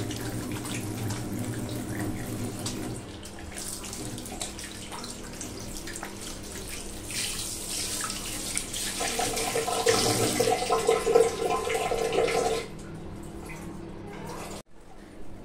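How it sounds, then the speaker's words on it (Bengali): A tap runs steadily while someone washes their face with face wash at a sink in the morning. Water rushes continuously, and splashes and drips change as the hands move under the flow. It stops near the end. "সকালবেলা উঠেই একটু ফেস ওয়াশ দিয়ে মুখটা ধুয়ে নিই"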